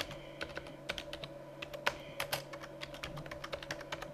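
Rapid keystrokes on a computer keyboard as an NSLOOKUP command is typed, sharp clicks in quick irregular bursts over a steady low hum from nearby equipment.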